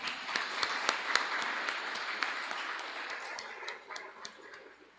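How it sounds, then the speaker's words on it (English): Audience applause after a child's story at a 2023 national school results announcement ceremony, a dense, steady wash of clapping with sharp individual claps that gradually fades toward the end. "I think Claire deserves another round of applause"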